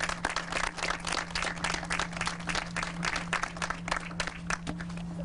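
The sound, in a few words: audience applause for the staff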